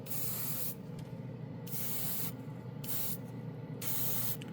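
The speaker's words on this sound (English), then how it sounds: "Really impressive airbrush." A Mr. Hobby GSI Creos Custom PS-771 airbrush sprays paint in four close, steady bursts of bright hissing air, separated by brief pauses.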